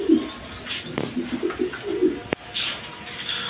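Caged domestic pigeons give several low, throaty coos up close, with a sharp click partway through and light background hiss.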